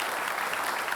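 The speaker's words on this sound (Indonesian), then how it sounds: "kita beri tepuk tangan untuk Pak Anies Rashid Baswedan" Studio audience applause at a televised Jakarta gubernatorial election debate, a brief, dense, steady patter of clapping heard alone.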